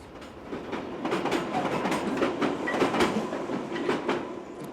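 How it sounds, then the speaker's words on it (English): London Underground train running on electrified track, rhythmic clickety-clack of wheels over rail joints with a rumbling roar, close and steady for several seconds. "So we need to be aware traction current is on, trains are running."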